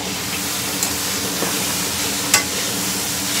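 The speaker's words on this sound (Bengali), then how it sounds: "মা এখন সব সবজিগুলো ভাজা করছে," Chopped vegetables for veg chowmein frying in a pan at home, a steady close hiss and sizzle with a couple of brief utensil clinks from stirring.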